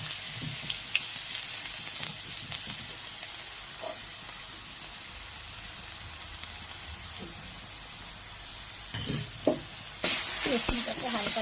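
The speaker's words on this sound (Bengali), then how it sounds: "রসুনটাকে হালকা ভেজে নেব।" Crushed garlic and dried red chillies fry in hot oil, giving a steady, close sizzle, with occasional stirring clatter and a louder burst of frying near the end.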